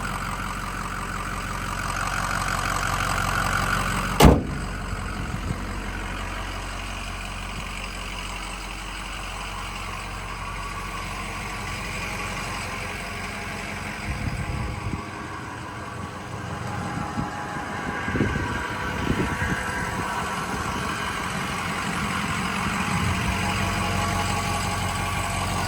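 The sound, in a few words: 2007 Ford F250 6.0 Powerstroke diesel engine idling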